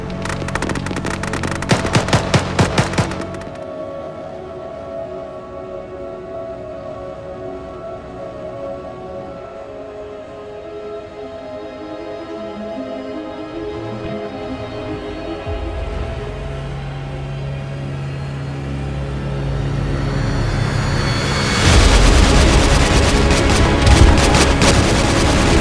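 Dense gunfire from an Arma 3 battle: sustained automatic bursts and scattered shots at the start, then a long stretch of rolling distant firing, ending with heavy loud booming blasts.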